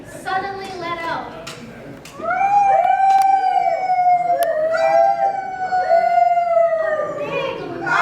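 A performer in a school drama imitates a coyote howling at the moon, holding a long, loud, sliding wail after some brief lead-in vocal sounds.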